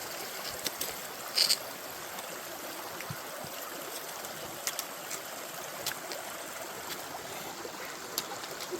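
A river runs beside the La Cloche hiking trail in Killarney Provincial Park, a steady hiss of flowing water with faint trickles and a few brief knocks and rustles close by.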